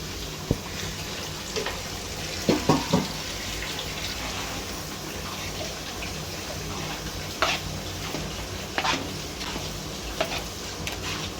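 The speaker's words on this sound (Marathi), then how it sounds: "नंतर पनीर मिक्स करून घ्यायचं." Grated paneer gets stirred into a thick vegetable mixture in a pan, with repeated spoon scrapes and sharp clinks over a constant sizzling, wet background.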